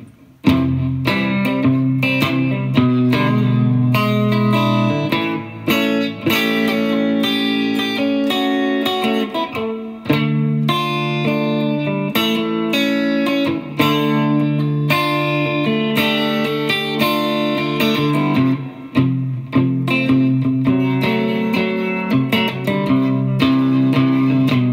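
An electric guitar plays through a Pigtone PP-27 compressor pedal, steady chords and notes sounding distorted and even in level, loud and continuous with short pauses.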